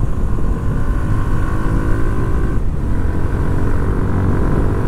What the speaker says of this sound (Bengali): তো এখন আমি বাইকের স্পিডটা 100 তুলবো, তোলার পরে আর কি সাউন্ডটা রেকর্ড করে দেখাবো